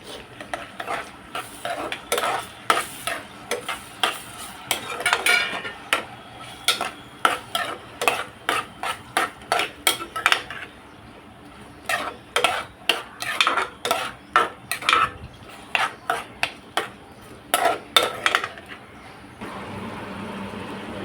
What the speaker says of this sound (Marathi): आपण जो हा कांदा बारीक चिरलेला आहे ना, तो जरा थोडा आपण लालसर याच्यात भाजून घेऊया.